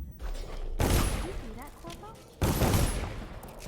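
Gunfire in Dishonored comes as two loud, sudden blasts, each followed by a sustained noisy rumble and ringing tail, with a brief, faint voice-like sound between them.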